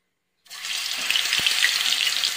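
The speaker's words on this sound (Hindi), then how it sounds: "इसे हमें गर्म तेल में तलना है" Batter-coated chillies hit hot oil and start frying at once, a steady loud hiss and crackle after a short silence, holding strong with no voices.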